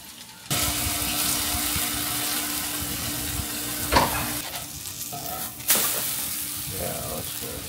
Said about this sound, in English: I'm getting the bacon going